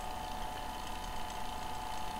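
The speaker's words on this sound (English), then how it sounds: "We'll hear the vacuum pump get quieter" A vacuum pump runs steadily while pulling a vacuum, giving a constant mechanical drone with a strong hum and faint rattling texture.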